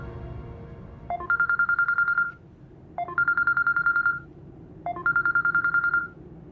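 A telephone call rings out unanswered: three evenly spaced bursts of an electronic ringback tone, each a rapid pulsing beep lasting about a second, over a faint low background hum.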